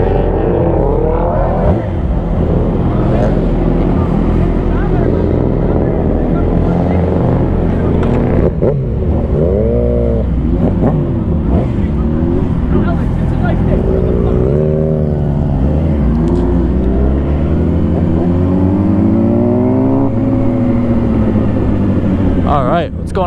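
A Yamaha R6 and a Kawasaki ZX6R sport bike ride together, their engines droning loudly and steadily, with pitch sweeping up and down as they accelerate and shift, under a rider's voice talking throughout.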